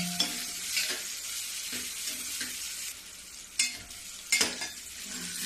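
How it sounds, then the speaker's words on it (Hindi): Chopped onion fries in a pan and is stirred, a steady close sizzle with periodic scraping spoon strokes and louder bursts as it is turned. "प्याज को मैं थोड़ी देर भूनूंगी"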